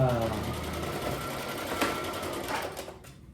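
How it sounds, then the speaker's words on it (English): A sewing machine stitches down the side of a fabric bag, running steadily at close range for about three seconds before slowing and stopping. "now it's time for me to sew this side down"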